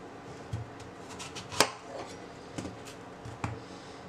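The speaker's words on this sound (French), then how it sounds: "On les coupe en deux." Knife strokes halving apples on a cutting board for an apple crumble, a handful of sharp separate knocks spaced about a second apart, close and fairly quiet, with no talking.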